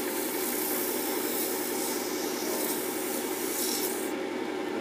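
A wooden mallet is sanded with fine abrasive cloth, giving a close, steady scratchy rubbing hiss that runs continuously and alone for a few seconds.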